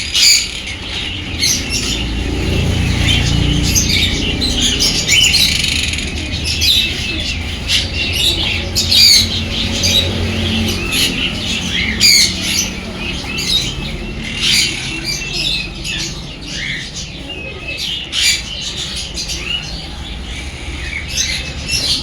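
Exotic pet birds squawk and chirp in a busy pet shop in Coimbatore, with frequent loud calls close by, a general chatter of birds around them and some background voices.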